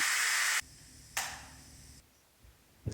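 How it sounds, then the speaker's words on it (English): Steam hissing out of an Instant Pot pressure release valve, a loud broadband burst at the start, then a second shorter gush before it tapers to quiet. "we're going to let the steam escape and release all the pressure from the Instant Pot"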